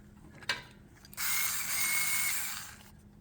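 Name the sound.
ratchet tightening hose clamp on Jeep Wrangler air filter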